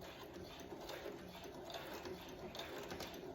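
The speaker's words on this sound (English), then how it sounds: "I'm just going to back stitch." A Brother CS7000x sewing machine back stitching on a dress, a quiet, steady mechanical whir with a soft rapid rhythmic clatter from the needle, heard close and alone.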